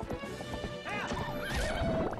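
A galloping horse in Zelda: Twilight Princess pounds out quick hoofbeats, then lets out two rising, quavering whinnies over the running rhythm, loud and near, with no voices.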